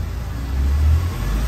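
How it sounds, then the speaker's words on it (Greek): The engine of a 2012 Mercedes SLK rumbles close by as the throttle is pressed, its deep drone swelling slightly and then settling back without fading. "Προσέξτε το πόδι μου πόσο θα το πατήσω και πώς θα ανέβουν οι στροφές."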